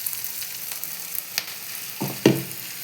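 Maggi noodles mixed with egg are spooned into hot oil, giving a steady sizzle with a few sharper crackles and splutters as the batter hits the oil.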